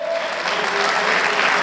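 A church congregation at a sermon bursts into loud, dense applause, many hands clapping in a close, steady wash through the short stretch, with a faint voice tone sounding briefly underneath.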